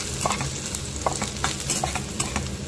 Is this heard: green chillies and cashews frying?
yes